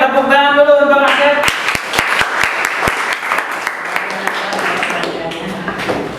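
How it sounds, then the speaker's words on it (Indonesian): Scattered clapping from a classroom of students for a classmate, starting after a brief voice, with a handful of sharp separate claps then a looser patter, fairly close, under background talk. "tepuk tangan dulu untuk Asep"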